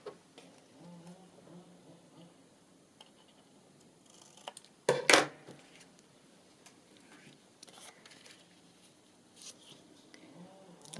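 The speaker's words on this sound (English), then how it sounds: "And I'm going to cut it across this corner too." Scissors snip through paper while a corner tuck is trimmed for a Moroccan-themed handmade journal, with a single sharp close cut standing out among faint rustles and small ticks in a quiet room.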